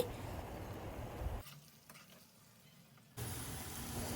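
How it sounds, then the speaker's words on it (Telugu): Long-sliced onions fry in oil for chicken biryani, giving a quiet, steady sizzle that drops away for a couple of seconds midway and then returns. "ఇప్పుడు నేను ఫ్రైడ్ ఆనియన్స్ చేసుకుంటున్నాను అనమాట పొడువుగా కట్ చేసుకొని ఆయిల్లో ఫ్రై చేసేసుకోవడమే"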